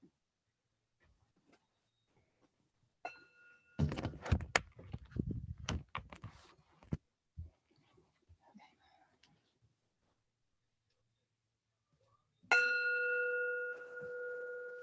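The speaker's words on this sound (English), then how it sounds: "I need to get my gong." A gong rings out once in a Buddhist class, struck near the end with a loud, sustained tone that slowly decays, after a stretch of clattering and rummaging noises.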